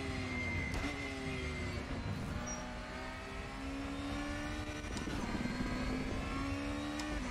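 A race car in the Raceroom racing game laps Road Atlanta during tire warm-up. The engine drones steadily with rising and falling pitch as it accelerates and shifts, moderately loud and continuous with no speech.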